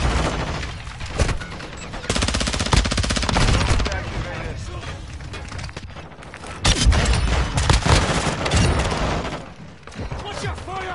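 Call of Duty Modern Warfare II multiplayer on the Shipment map, dense loud automatic gunfire in repeated bursts with brief lulls and booming hits, a voice talking intermittently over the shooting.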